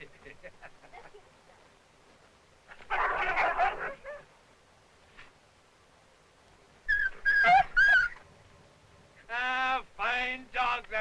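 Husky sled dogs squabbling over food, with bursts of snarling, yipping, whimpering and barking separated by quiet pauses, close and loud, with people's voices talking between.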